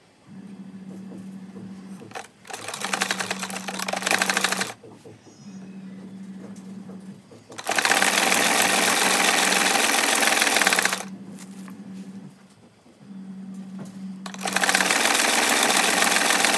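A sewing machine stitches the side seam of leggings in several long, loud, close bursts with brief pauses between runs, and a low steady motor drone runs beneath the rapid stitching.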